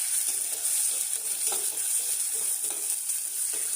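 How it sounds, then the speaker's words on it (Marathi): Sliced onions sauté in a pressure cooker with a continuous bright, close sizzle and faint stirring scrapes underneath, steady throughout with no talking. "साधारण 1 वाटी भरून कांद्याचे काप कुकरमध्ये टाकायचे आहे आणि परतून घ्यायचे आहे"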